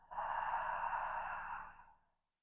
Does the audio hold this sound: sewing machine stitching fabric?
no